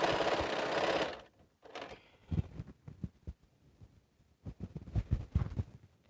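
A sewing machine runs steadily and loudly while stitching a quilt, then falls away into scattered soft knocks and handling clatter, with a few short bursts of bumping near the end.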